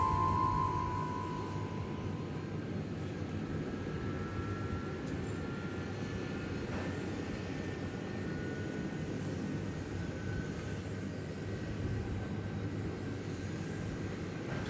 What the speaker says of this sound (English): Here comes the A300 out of its parking space.